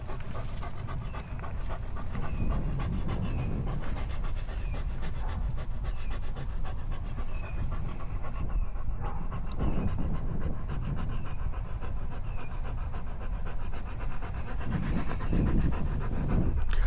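A big dog pants steadily and rapidly up close for a long stretch outdoors on a walk, the quick rhythmic breaths continuous and loud with no talking.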